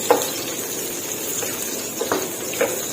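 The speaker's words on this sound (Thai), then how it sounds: "ผัดเครื่องพะโล้ที่หอมค่ะ" Palo five-spice seasoning stir-fried in a pan makes a constant sizzling hiss, with a few light scrapes of a utensil against the pan spaced through the short stretch and no voices.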